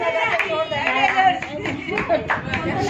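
People clap together at a 44th wedding anniversary celebration indoors, a steady patter of hand claps with voices chattering underneath.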